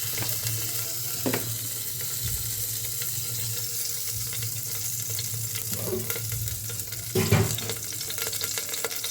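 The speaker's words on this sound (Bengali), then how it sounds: "জিরে ফোড়ন দিচ্ছি" Cumin seeds tempering in hot mustard oil in a kadai, a steady soft sizzle and crackle that runs throughout at moderate level, with a few brief louder pops and stirring clatters.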